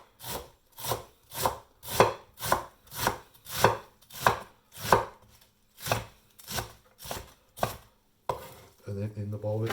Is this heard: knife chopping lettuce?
yes